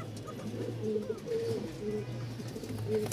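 A frightened young pigeon at a pigeon market gives a series of thin, soft coos, close by, over low background noise.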